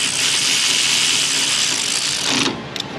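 Ratchet tightening bolts on the engine of a 2003 Ford Mustang GT 4.6, a close, rapid clicking run lasting a couple of seconds that stops abruptly, followed by a faint tap.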